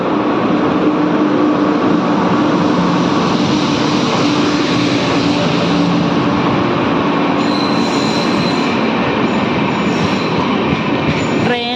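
A train pulls into Derol railway station, its loud, continuous rumble and rolling wheels filling the platform, with a rising metallic brake squeal near the end.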